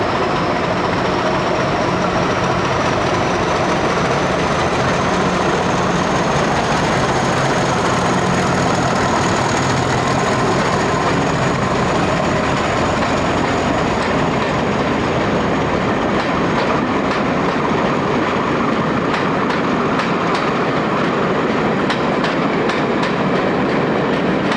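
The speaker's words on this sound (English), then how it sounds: "This Class 50 diesel type now being extinct on British Rail metals" Class 50 diesel locomotive on British Rail hauling a passenger train, a loud continuous engine drone and wheel rumble with a high whine, rhythmic rail clicks growing toward the end.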